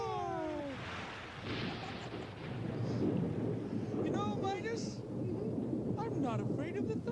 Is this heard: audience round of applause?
no